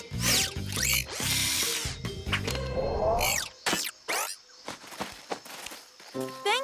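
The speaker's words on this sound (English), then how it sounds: "Screwdriver!" A cartoon dog uses a power tool to take apart a jungle gym, with short whirring drill bursts mixed with cartoon music, whooshes and quick thumping effects.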